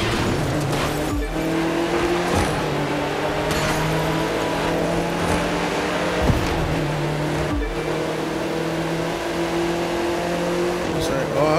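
Porsche race cars in The Crew 2 racing game, a continuous engine drone with shifting tones and tire noise running loud throughout, under a steady backdrop of game racing sounds.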